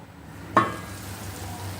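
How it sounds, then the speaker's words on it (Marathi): A lid is lifted off a pot of coconut rice on a low flame with a single short clank, followed by a soft, steady sizzle from the pot, close and alone. "आता आपण हे झाकण काढून पाहू आणि पाहूया भात शिजला का"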